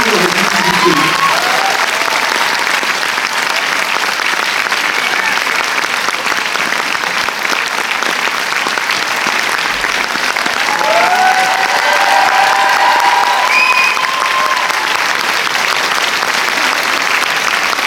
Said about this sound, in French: je vous remercie de bien vouloir l'accueillir en faisant un tonnerre d'applaudissements